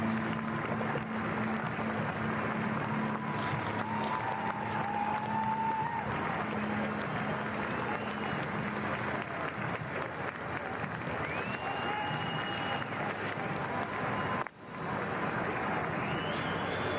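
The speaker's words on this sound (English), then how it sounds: "this uninterrupted applause for the veterans as they parade around the National War Memorial" Sustained crowd applause for parading veterans at a Remembrance Day ceremony at the National War Memorial, a dense unbroken wash of clapping heard from a distance outdoors, with faint whistles or tones drifting above it.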